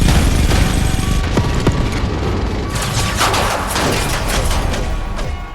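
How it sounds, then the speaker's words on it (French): Cinematic sound effects of cannons firing in unison at a very rapid rate, a loud dense fusillade of booms and crackling bursts that runs nearly continuously and stays close and powerful. "canons de tirer à l'unisson à une cadence supérieure à 1000 coups par minute pour intercepter la menace"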